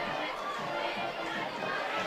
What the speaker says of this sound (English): that gives this crowd something to cheer about